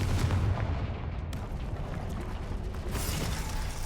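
A fiery blast spell cast in a wizard video game, heard as a dense, loud burst of crackling rumble that sustains for several seconds with a second surge near the end, close and alone with no voices.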